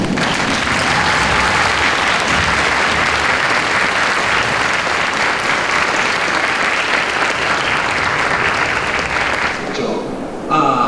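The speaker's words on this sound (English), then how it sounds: "How about this thunderous applause for these seniors" Loud, sustained applause from a high school spring choir concert audience for the seniors, dense clapping filling the room for about ten seconds before thinning out at the very end.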